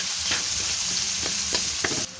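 Onion, garlic and pepper sautéing in a pan with a steady sizzle, a spoon scraping and stirring at several points along the way, ending abruptly.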